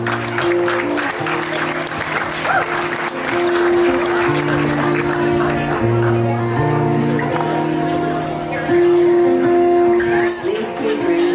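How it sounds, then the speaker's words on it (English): Guests at Tracey and David's wedding clap for a father-daughter dance as Tracey and her father take the floor, steady applause spread through the room over sustained music, with voices mixed in. "Let's give a very big round of applause"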